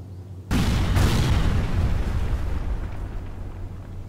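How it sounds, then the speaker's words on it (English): An artillery strike in a modern warfare video game: a sudden heavy blast, then a second impact close behind, leaving a loud, sustained rumbling roar that slowly tails off. "Artillery strike requested on coordinates."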